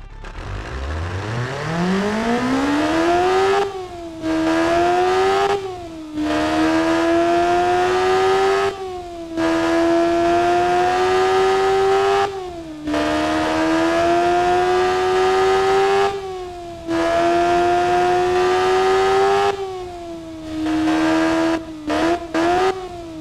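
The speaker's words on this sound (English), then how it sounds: "this is it, the bike 600cc engine" A 600cc naturally aspirated motorcycle engine in a video game revs repeatedly, climbing from idle into a sustained high-pitched whine that holds, briefly drops between bursts and climbs again, loud and close with no talk.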